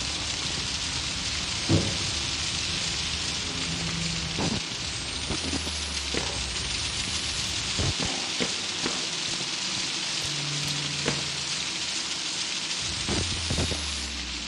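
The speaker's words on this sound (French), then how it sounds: "allons-y, il pleut" Steady rain hisses without pause, broken now and then by soft low thumps, in the video game Outlast 2.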